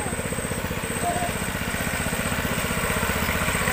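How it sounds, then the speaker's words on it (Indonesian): A motor boat engine chugs in a mangrove forest at Lantebung, Makassar, a steady rhythmic putter at moderate loudness that holds constant as the boat passes. "Lihat, ada perahu yang menuju ke sini. Yeay, perahu lewat."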